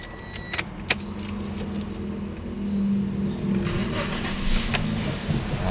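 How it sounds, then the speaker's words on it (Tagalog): Keys jangle, then a Toyota Vios engine starts and settles into a steady idle, close and moderately loud. "paandarin mo muna mga boss para mag-rotate ang kanyang oil sa loob. Andarin mo lang 1 minuto."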